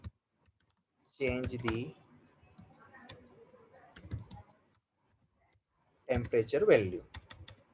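Bursts of rapid keyboard typing as a message for a SCADA temperature-input prompt is entered, with clicks sounding close and crisp in quick flurries, the typing in between a man's short spoken remarks.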